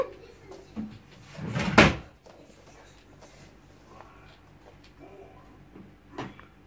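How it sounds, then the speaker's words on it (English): A child bangs a drawer shut indoors, one loud knock near the two-second mark with a smaller thump late on, set against quiet room noise. "Why are you banging the drawers?"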